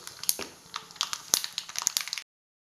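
Mustard seeds crackling in hot coconut oil that was used to fry pappadam: a quick flurry of close, sharp pops and crackles lasting about two seconds, then silence.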